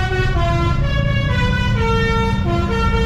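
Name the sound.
party bus horn and engine in Indonesia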